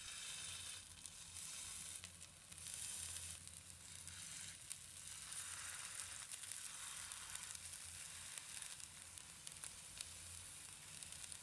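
Sweet potato and rice balls sizzle steadily in hot cooking oil in a wok, a soft, continuous crackling hiss with no voices.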